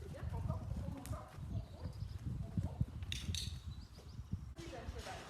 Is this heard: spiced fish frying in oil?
no